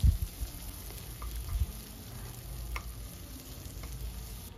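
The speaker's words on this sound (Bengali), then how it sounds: "পেঁয়াজটাকে দিয়েও এখন হালকা লাল করে পেঁয়াজটাকে একটু ভেজে নিতে হবে" Steady, soft sizzling of onion frying in a pan, with occasional low clunks and stirring scrapes near the start.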